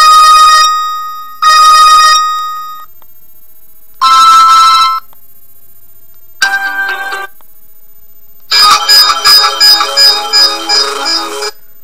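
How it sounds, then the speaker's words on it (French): A rugged senior mobile phone plays several different very loud ringtones in turn, each a bright repeating electronic melody in short bursts separated by silence, the last one a fast chiming pattern. "Vous avez par exemple une dizaine de sonneries possibles qui sont très fortes"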